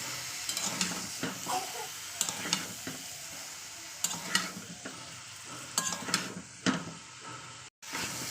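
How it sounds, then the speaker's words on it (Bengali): Chicken is stirred and sautéed with spices in a pan over a high gas flame: a constant sizzle and frying hiss, broken by repeated scraping stirs at irregular intervals, close and clear, with no voices. "এবার চিকেনটাকে এর সঙ্গে ভালো করে কষিয়ে নিতে হবে"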